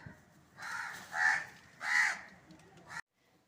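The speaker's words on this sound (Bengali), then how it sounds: "ওই কাক ভয় পাচ্ছে" A crow caws close by near its nest, giving three harsh calls with a brief trailing note before going quiet, standing alone over a faint background hum.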